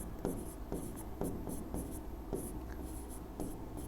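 Chalk or marker writing on a board during a Class 12 physics lesson, a series of faint scratchy strokes and taps in an irregular rhythm over a quiet room.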